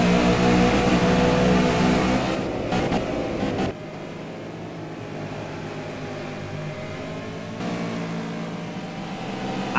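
Race car engines in the Simraceway racing video game rev and drone continuously at steady high pitch, loud and close, with a shift in tone partway through as cars pass along the final straight.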